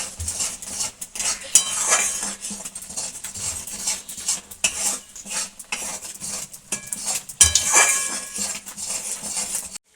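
A spoon stirs a powdered home-remedy mixture in a bowl, making close metallic clinks and scrapes in irregular bursts with short pauses between strokes, with no talking.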